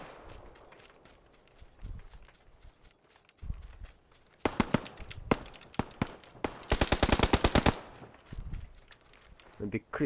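Gunfire in the PUBG video game rattles out as scattered single shots and then dense automatic bursts, sharp and fairly close, while players chatter and call out over the shooting.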